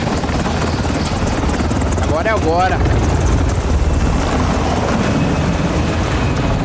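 A helicopter in Call of Duty Warzone 2.0 thrums loudly and continuously under excited players' voice chat, with a brief rising whine in the middle.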